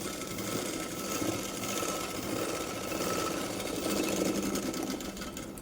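A sewing machine runs continuously, stitching a hooks belt on a blouse, a steady loud mechanical whir and needle chatter without pause, no talking.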